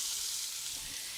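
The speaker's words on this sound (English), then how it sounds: "To our Dutch oven, we're gonna add the onions." Onions sizzling in a Dutch oven in hot brisket drippings: a steady, bright, close frying hiss that stays even for about a second.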